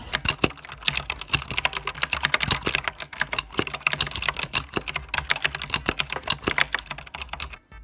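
Rapid, steady typing on a Havit mechanical keyboard, dense clicky keystrokes up close with occasional louder key hits and no talking.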